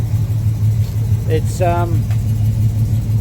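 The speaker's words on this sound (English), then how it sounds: "Just started it up for the first time." A Holden VH wagon's engine running steadily at idle just after its first start following a week of sitting, a low even rumble with a brief spoken word and a short squeal over it.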